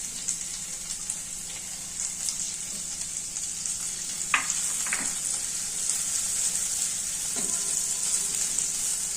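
Ginger, garlic and finely chopped green chilies fry in a pan, giving a steady close sizzle with a few brief spatula taps and scrapes scattered through, no voices.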